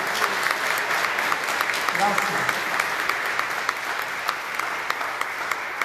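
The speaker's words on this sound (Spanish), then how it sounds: "Damos un fuerte aplauso." A church congregation at Sunday Mass applauding, a steady wash of many hands clapping throughout, with a voice briefly heard over it.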